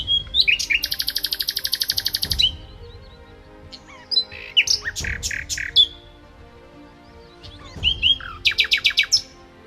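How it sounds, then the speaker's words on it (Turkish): Birds chirp in bright, rapid trilling bursts, three clear phrases separated by short pauses, close and fairly loud over a quiet outdoor background in a rural village in Kastamonu, Turkey. "Bu güzelim kuş seslerini duyabilen kulaklarımıza."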